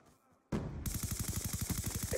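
Rapid automatic gunfire from a Black Ops 2 match, a steady stream of close, evenly spaced shots rattling on for about two seconds after a brief quiet start.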